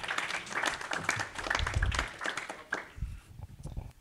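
Audience applause at a venture capital panel event in a Santa Clara venue, a burst of clapping that swells, dips briefly and rises again, with some low rumbling and possible voices mixed in.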